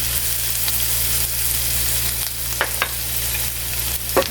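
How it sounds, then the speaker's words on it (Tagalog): Onion and garlic fry in melted butter in a pan while being stirred, a steady close sizzle with occasional scraping clicks of the utensil. "Haluin na natin hanggang brown na color."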